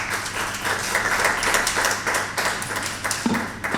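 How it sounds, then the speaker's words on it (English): An audience at an industry conference upskilling breakout claps for a panel, dense overlapping applause sustained close by with scattered sharper taps. "Huge round of applause, please."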